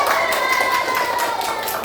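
Classroom applause for a winning student group, a brisk patter of clapping hands under a voice speaking over it.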